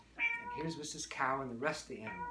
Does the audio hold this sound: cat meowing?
yes